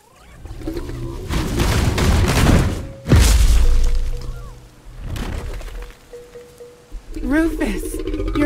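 Bomb explosion in the action game Kena: Bridge of Spirits, with one loud booming blast landing mid-clip over a rumbling, crackling backdrop and game dialogue, followed by further lower rumbles.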